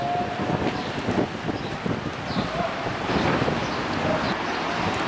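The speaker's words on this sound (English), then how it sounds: "As I walk down to the towards the sea, I noticed the wind's picking up again." Strong, gusting wind buffets the microphone along the seafront at Campora San Giovanni in Calabria, a steady broadband roar with louder surges and faint surf beneath.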